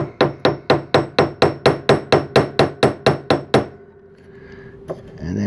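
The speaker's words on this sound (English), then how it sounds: "we're going to hammer it" About fifteen sharp metallic hammer blows on hot scrap silver in a quick steady rhythm, close and loud, then a pause with faint rustling and a light tap.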